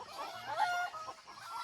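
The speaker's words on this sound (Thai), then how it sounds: "เสียงไก่นะไก่ไก่บ้านนะ" Domestic chickens cluck at a hilltop rural temple in Thailand, a short run of soft clucks heard at middle distance.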